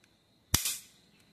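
A Taurus PT 51 pistol is dry-fired, giving a single sharp metallic snap of the hammer, close and loud, with a brief rattling decay in an otherwise quiet room.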